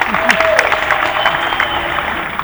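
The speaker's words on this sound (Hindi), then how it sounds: "जोरदार ताली।" An audience at the Hindustan Mail Mahotsav stage event breaks into loud, brisk clapping, crisp hand claps spread through the crowd, with a voice speaking over it early on.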